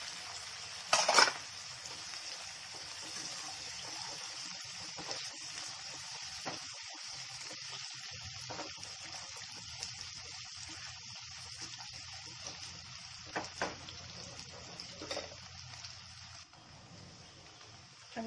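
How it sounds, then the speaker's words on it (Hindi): Onions and green chillies sautéing in a pan for an aloo palak dish, a steady low sizzle with occasional stirring scrapes and a few sharper clinks, heard alone without talk. "प्याज को हल्का सा हम सोटे कर लेंगे"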